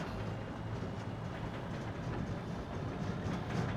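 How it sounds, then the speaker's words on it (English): An empty truck trailer rattles and clatters while being driven in a farming video game, a steady rumbling road noise with a loose, clanking rhythm, fairly close and with no talk. "It's like got rattle noises to it."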